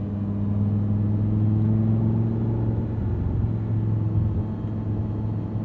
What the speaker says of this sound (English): you want a naturally aspirated V10 that just sings and howls and impresses you